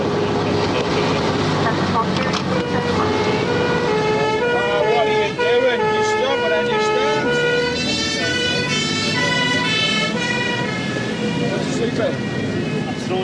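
A fire engine's wailing siren sounds throughout as the crew responds to a house fire, its rising and falling tones loud and close over a steady engine rumble and background voices.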